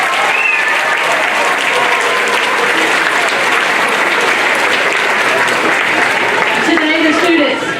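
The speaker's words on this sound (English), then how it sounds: "Let's give them a big round of applause." A loud, dense round of applause from an elementary school audience at a leadership night, steady and continuous throughout, with the clapping filling the room.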